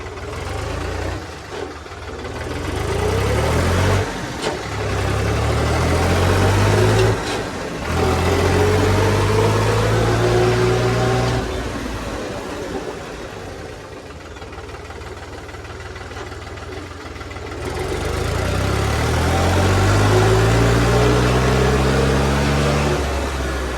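A heavy New Holland tractor engine chugs and revs steadily, its pitch rising and falling as it drives, loud and close throughout with no talking.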